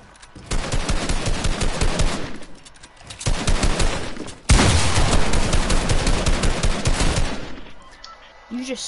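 Rapid automatic gunfire in Fortnite rattles in sustained loud bursts, pausing briefly between sprays.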